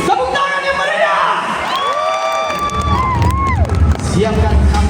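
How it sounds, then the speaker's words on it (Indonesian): A circus audience cheers, whoops and shouts loudly and continuously, a dense crowd roar with children's voices rising above it. "Tepuk tangan yang meriah!"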